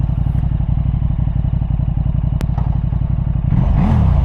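A warmed-up 2014 KTM RC8R superbike sits idling, loud and close, with a fast, lumpy, even throb that climbs into a brief rev near the end.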